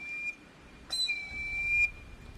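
An Ojibwe eagle whistle sounds a thin, piercing high tone, first briefly, then in a longer, brighter blast lasting about a second, clear and alone against a quiet background.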